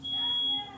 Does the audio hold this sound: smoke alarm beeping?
yes